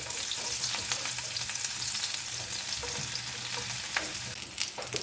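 Chopped shallots frying in coconut oil in a frying pan, a dense continuous sizzle with crisp spattering pops and brief stirring clicks, heard up close without any voices.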